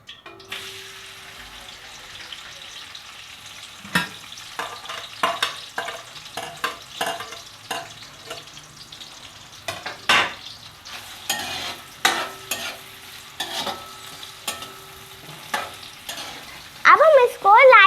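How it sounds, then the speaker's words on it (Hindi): Onions sizzle in hot oil in a kadai, a steady frying hiss broken by repeated stirring scrapes and clinks, with a brief splash of running water near the end. "हमने कढ़ाई में तेल गरम कर लिया है। अब हम इसमें प्याज डालने लगे हैं।"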